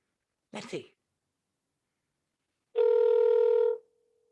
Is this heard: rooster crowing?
no